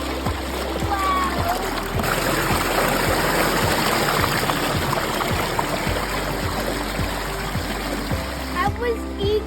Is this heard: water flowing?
yes